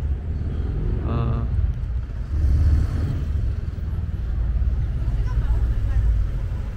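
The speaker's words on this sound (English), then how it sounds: "And still a lot of traffic." Busy street traffic on a city street in Dali, China at 10:30 p.m., a continuous low rumble of passing cars and engines with a brief horn-like tone near the start, fairly close and steady.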